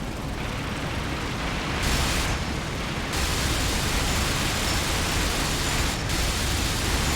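Machine-gun fire from an I-16 fighter in the IL-2 Sturmovik WW2 flight game, a dense, continuous roar of rapid gunfire blended with engine and wind noise, loud and unbroken with brief dips in intensity.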